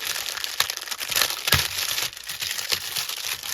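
Cellophane crinkles and crackles close by in irregular bursts of sharp, papery snaps as it is handled and crumpled, with no talk.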